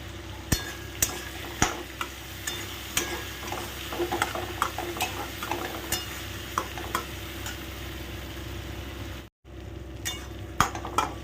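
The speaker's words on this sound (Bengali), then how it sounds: "আস্তে আস্তে করে সুন্দর করে ভাজা ভাজা করে নাও" Vegetables frying with turmeric in a pan over low flame, with a steady sizzle broken by clinks and scrapes of a spatula stirring against the pan, close and clear, with no talking and one brief dropout near the end.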